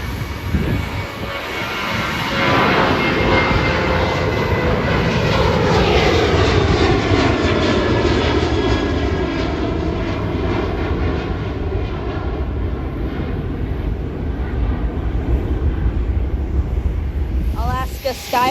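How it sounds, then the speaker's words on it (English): Southwest Airlines Boeing 737-700 with split-scimitar winglets departing Hollywood Burbank Airport, a loud, steady jet engine roar building and holding, then easing, with wind buffeting the microphone. "Southwest Airlines departing to Sacramento, 737-700 with double splits."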